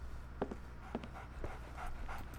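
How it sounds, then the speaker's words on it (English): A dog in Sherlock Holmes: The Awakened pants quietly in short rhythmic breaths, with a few soft whimpers over a low steady background hum. "So, Barnes has a dog now."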